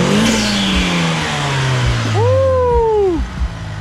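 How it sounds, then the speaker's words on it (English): A Mitsubishi Evo 8 with a fresh cold air intake held on two-step launch control, the engine revving loudly up close with a rising then falling surge and brief popping bursts, voices faintly underneath. "He's about to 2-step it right now."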